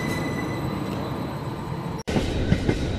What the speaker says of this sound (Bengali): ট্রেন যখন মিশিরাগড় স্টেশনে এসে পৌঁছালো